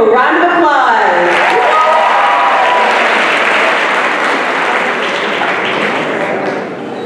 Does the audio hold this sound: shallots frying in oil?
no